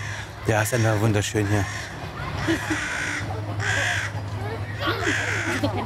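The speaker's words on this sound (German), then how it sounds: "Und oben hört man die Krähen." Crows caw repeatedly overhead along a small avenue lined with very old trees on Mainau, the flower island in Lake Constance. The harsh calls come in clusters, moderately distant, while a person talks nearby.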